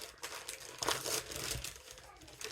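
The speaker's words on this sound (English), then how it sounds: "so stand by for crinkling." Plastic packaging on a yarn sock set crinkles and rustles up close as it is opened, a busy, uneven crackle with a few louder bursts and faint voices behind it.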